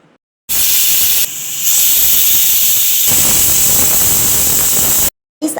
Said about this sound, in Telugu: దాని మీద కుక్కర్ మూత పెట్టి త్రీ విజిల్స్ రానివ్వాలి